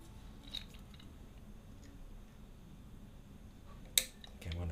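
A guitar string snipped with the cutter on a string winder gives one faint, sharp snip near the end against a quiet background.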